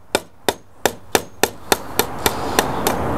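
Hammer striking 3/4 inch galvanized staples into a wooden chicken coop, ten sharp, close metallic blows at a steady, slightly quickening pace, with no talking.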